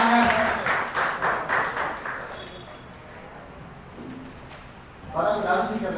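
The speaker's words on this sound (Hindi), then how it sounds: "चलो जोरदार तालियां।" Students in a classroom clap in a loud, rhythmic burst of several beats, which fades into quiet before a second clapping burst rises near the end, with some talk mixed in.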